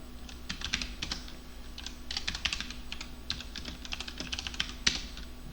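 Computer keyboard typing while someone presses Ctrl+C, a steady run of close, crisp key clicks with no talking.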